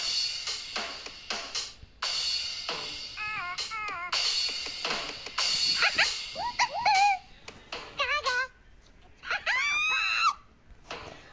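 A cat yowls loudly in a string of drawn-out, wavering cries that come in bursts over about eleven seconds, with brief clatter and handling noise between calls.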